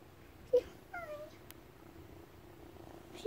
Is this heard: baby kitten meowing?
yes